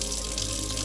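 Tap water runs from a faucet onto a makeup brush, a brief steady gush of flowing water heard close and constant.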